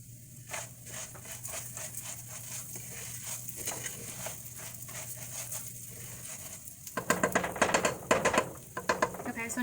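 Rice toasting in a pan for Guatemalan rice, a steady soft sizzle under repeated scraping and stirring strokes, growing louder and busier toward the end.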